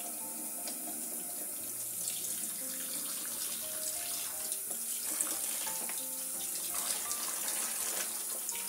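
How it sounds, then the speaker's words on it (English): Cold tap water runs steadily into a sink, with a constant splashing hiss as a dyed silk scarf is rinsed under the stream, close by and fairly loud. "To rinse the silk scarf, we just need the cold water."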